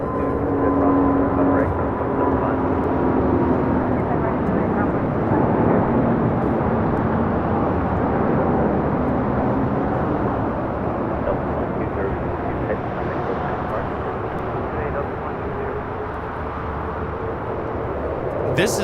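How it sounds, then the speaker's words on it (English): A Delta Airlines Airbus A350-900 takes off at LAX on a flight to Atlanta, its engines producing a loud, steady broadband roar that holds for the whole stretch, with some outdoor wind noise mixed in. "This is Delta Airlines 2202 taking off to Atlanta on an A350-900"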